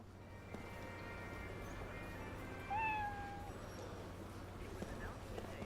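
A cat meows once in the video game Lost Odyssey, a single clear rising-then-level meow near the middle, set against a constant low game hum and background ambience.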